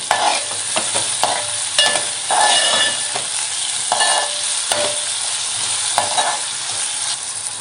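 Tomato and chopped chillies are stirred in a hot frying pan, a loud, steady sizzle with repeated spatula scrapes and occasional taps against the pan, with no voices.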